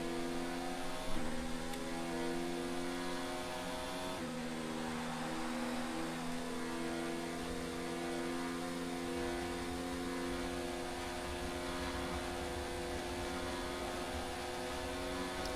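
An onboard Racing Point race car engine drones at a steady high pitch in a racing game on the Azerbaijan GP circuit, holding an even whine throughout without voices.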